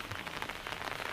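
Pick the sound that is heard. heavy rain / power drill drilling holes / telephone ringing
heavy rain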